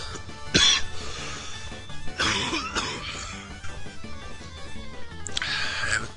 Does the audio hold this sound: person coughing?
yes